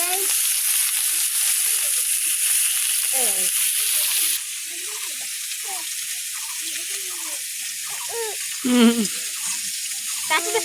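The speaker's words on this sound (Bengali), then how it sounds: "মাছ দিচ্ছি কড়াইতে" Fish hits the hot oil in a wok with a loud, close sizzle for the first few seconds. The sizzle then drops to a quieter background while people talk over it.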